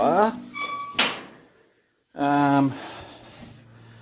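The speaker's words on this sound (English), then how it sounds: "So when it comes to closing the door" A door on a 1928 Oakland car shuts with one solid, close thunk, with people talking just before and after.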